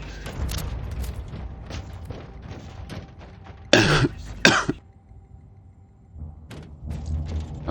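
Two loud, close coughs break through busy game sounds from a Warhammer action game, followed by a quieter stretch with a low hum.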